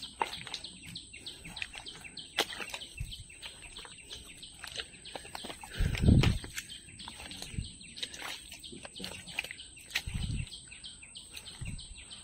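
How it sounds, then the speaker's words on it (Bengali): Various birds call in the Sundarbans forest: scattered chirps and tweets, with a possible rooster-like call, sound at moderate distance over a faint rustling background, with a brief louder thump midway. "পাখির আওয়াজ"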